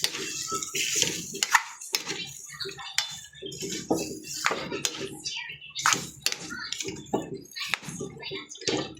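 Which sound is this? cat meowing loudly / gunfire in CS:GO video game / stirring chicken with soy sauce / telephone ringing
stirring chicken with soy sauce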